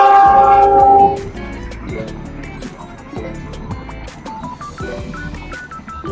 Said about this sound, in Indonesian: ada kereta api tuh lewat.